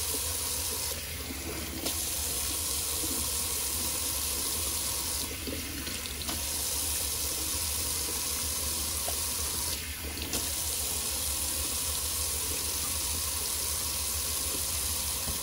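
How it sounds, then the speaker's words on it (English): A sink faucet runs steadily for rinsing a shaving brush, a constant rushing stream of water broken by a few brief splashing changes as the brush passes under it. "Do a little cold water rinse."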